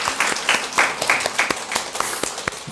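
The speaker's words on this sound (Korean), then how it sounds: "우리 김장하느라 수고해 주신 분들께 우리 박수로 한번 격려하겠습니다" A church congregation claps to thank the volunteers who made kimchi, loud close-up applause with distinct individual claps in a quick, uneven rhythm.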